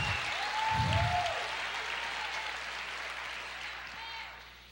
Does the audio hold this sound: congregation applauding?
yes